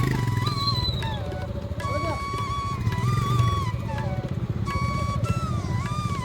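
A motorcycle engine drones steadily throughout a group ride near Ghatshila, with a loud continuous rumble close to the mic. Whistling wind or high tonal squeals weave over it, and voices may be faintly mixed in.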